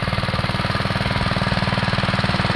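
A Husqvarna TF 230 motor cultivator's small engine running on its first test, a close, loud, rapid rhythmic chugging with even firing pulses throughout and no voices.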